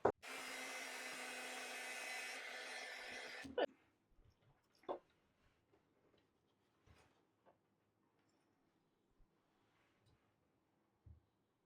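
An embossing heat tool blows steady hot air over a craft tag for a few seconds, then cuts off, leaving faint handling taps, soft rustles and breathing in a quiet room.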